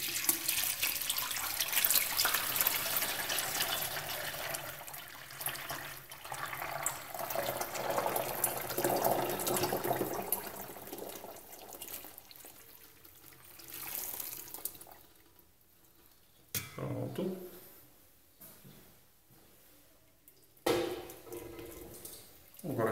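Hot melted beef tallow pours and trickles steadily through a filter cloth for soap making, a continuous liquid stream that fades after about fifteen seconds, followed by a few brief clunks and handling sounds.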